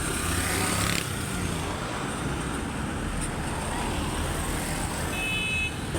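Motorcycles ridden without helmets or headlights pass steadily along a busy road, a continuous loud engine and traffic rumble with a brief horn toot near the end.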